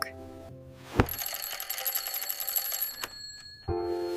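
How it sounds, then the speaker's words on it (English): A morning alarm clock rings in a bright, rapid metallic burst lasting about two seconds, surrounded by quiet background music. "My alarm rings and I get up."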